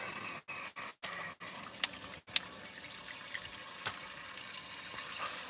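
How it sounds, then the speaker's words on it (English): Tap water runs into a cooking pot in a camper van kitchen, a quiet steady hiss broken by a few brief stops early on, then flowing continuously. "so I put water in a pot"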